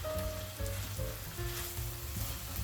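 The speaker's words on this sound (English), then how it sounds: "Everything gets a good stir." Chicken and rice sizzle loudly in a pot while being stirred, a dense continuous frying hiss with faint shifting scrapes throughout.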